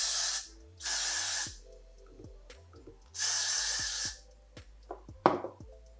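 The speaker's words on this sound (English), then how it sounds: "I'm gonna spray with the got to be glued" An aerosol can of hair glue spray hisses in three long bursts, each lasting about a second, with small clicks and handling noises between them.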